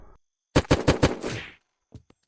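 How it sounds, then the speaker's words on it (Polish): Gunfire from various weapons in the video game Unturned: a quick burst of about five loud, close shots with a short decaying tail. A few fainter pops follow after a pause. "A tu słyszę strzały z różnych broni."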